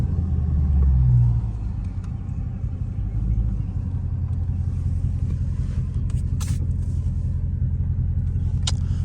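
A Dodge Charger 392 engine revs while the car spins its tires in dirt, a loud, steady low rumble with a heavier surge near the start, heard close with no talk over it.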